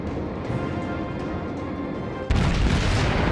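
The cruiser New Orleans fires a salvo of naval guns in World of Warships, a deep booming blast that cuts in abruptly over a steady roar of engine and sea noise, loud and close.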